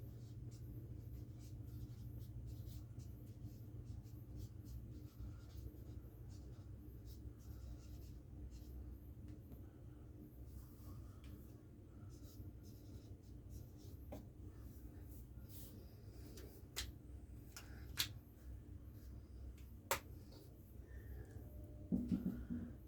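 Pen scratching on paper while an exam answer is written out by hand, a faint, steady scribbling over a low background hum, with a few louder taps near the end.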